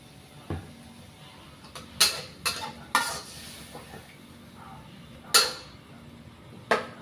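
Apple snails stir-fried with cha plu and holy basil leaves in a pan, a low continuous sizzle broken by several loud scraping clatters of a utensil against the pan at uneven intervals, close by.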